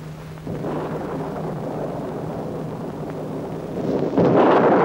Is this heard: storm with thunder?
yes